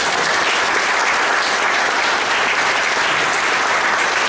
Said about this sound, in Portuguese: pedia à sala que aplaudisse